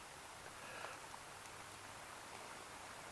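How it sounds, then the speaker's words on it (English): Rain falls steadily outdoors among young paulownia trees, a faint, even hiss of drops with occasional soft patters throughout, no voices. "We're getting rained down."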